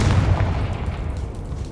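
Confringo explosion spell blast in Hogwarts Legacy, a deep rumbling boom that fades out over under two seconds, heavy in the low end.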